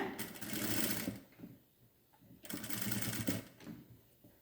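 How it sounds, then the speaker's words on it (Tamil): A sewing machine stitching along the edge of fabric in two steady running bursts with a brief pause between them, its fast needle chatter close but fairly quiet, with no talking over it. "இப்போ நம்ம இது மேலே ஒரு படிமான தையல் போட போகிறோம்"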